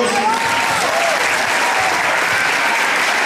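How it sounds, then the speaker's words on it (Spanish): An audience gives a parish choir loud, dense applause at a musical festival for the Holy Redeemer centennial in Kissimmee, Florida, with the clapping filling the hall and faint whistles rising above it. "un aplauso para ellos"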